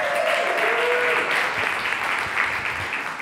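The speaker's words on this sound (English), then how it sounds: "Can we give a big round of applause to Judy?" A room of people breaks into steady applause at a conference session, a dense, even clatter of clapping that holds for a few seconds and tapers slightly toward the end.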